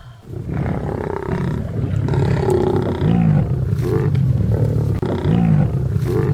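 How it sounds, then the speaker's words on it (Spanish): Lions feeding on prey growl and roar in deep, rumbling bursts, loud and close, repeating every second or two over a constant throaty background, with no voices. "Los gruñidos resonaron como una advertencia"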